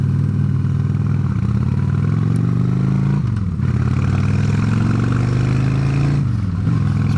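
A motorcycle engine hums loud and close throughout the ride on the road, a constant mid-pitched drone whose revs dip and climb a few times with gear shifts, with wind rush behind it.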